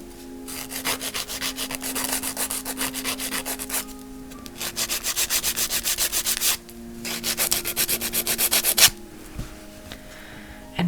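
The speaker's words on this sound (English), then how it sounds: "I'm going to file them so that's flat" A nail file rasps across broken gel-overlaid fingernails being shortened and flattened, loud close rhythmic scraping strokes in fast bursts separated by short pauses.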